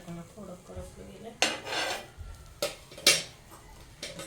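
A toasting sandwich is flipped in a buttered pan, with a few sharp scraping clatters of a spatula on metal in short bursts. Close, with soft sizzle and low background murmur between them.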